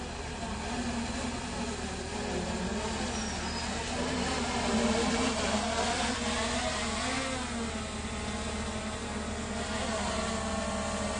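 A camera drone flies overhead with a continuous buzzing whine whose pitch wavers and shifts slightly as it moves, holding at a fairly even moderate loudness.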